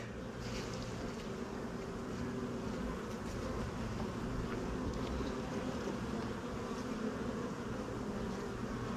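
Honeybees on a busy hive frame make a dense, continuous buzz, close and steady throughout without any talking.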